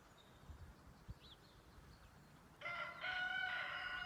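Rooster crowing in a yard with hens, a loud drawn-out cock-a-doodle-doo near the end after quieter clucking and faint chirps against soft background noise.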